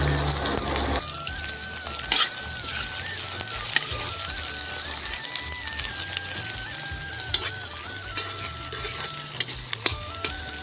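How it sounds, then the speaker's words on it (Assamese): Onions sizzling and frying in hot oil for a village-style duck curry, being stirred in the pan, with a steady loud crackle throughout and brief scraping stirs, no talk. "এতিয়া তেল উতলি গ'ল, আমি পিঁয়াজটো দিব হৈ গ'ল।"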